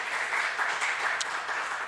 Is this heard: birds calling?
no